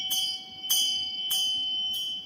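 A Vajrayana ritual bell, held in the left hand beside a vajra, rings in four bright metallic strikes about 0.6 seconds apart, each leaving a steady sustained ring that carries under the next, close and clear with no talking.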